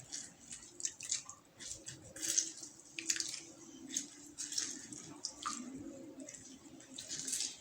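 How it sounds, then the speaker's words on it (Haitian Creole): Water dripping and trickling from a squeezed mixture, irregular small splashes and drips, close and fairly quiet, with no talking. "On va bien priger pour toute l'eau à sortir"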